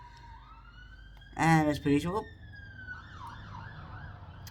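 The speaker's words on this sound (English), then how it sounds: "I do believe that was a fire engine" A fire engine siren wails, its rising and falling tones passing in the distance while a person speaks over it.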